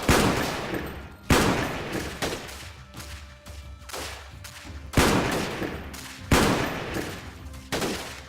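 Gunfire in a firefight in the game Freeman Guerrilla Warfare: several loud, sharp shots and short bursts spaced a second or so apart, each with a ringing decay, close and without talk.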